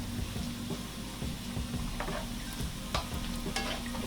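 Thick Jamaican fried dumplings cook in hot oil, a steady close sizzle broken by scraping stirs and clicks as the pieces are turned, with no voices.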